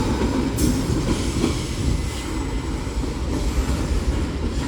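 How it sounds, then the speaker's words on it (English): A Union Pacific mixed freight train rolls past close by at Central Avenue in Metairie, a loud, steady rumble of railcars with rattling wheels and occasional squeals throughout. "And there goes train number 1 of today in Metairie, Union Pacific, with a really good horn show."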